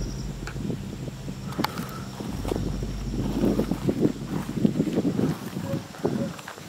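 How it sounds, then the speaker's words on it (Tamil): Strong wind buffets the microphone outdoors near an old house, a steady low roar with gusting swells and rumbling bursts that build louder midway and keep going throughout. "காத்து பயங்கரமா அடிக்குது ப்ரோ"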